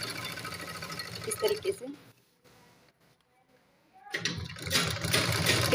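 A sewing machine stitches gum lace onto the side slit of a kameez, whirring in steady runs at the start and end with a quiet pause between, while a voice speaks briefly.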